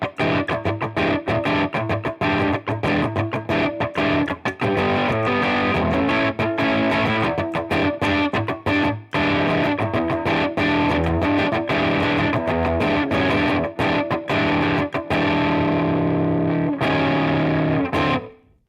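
A Stratocaster electric guitar played through an X-Gear X-Drive overdrive pedal gives a gritty, crunchy distorted tone, with strummed chords and fast riffs running continuously, loud and close, before ringing out at the end.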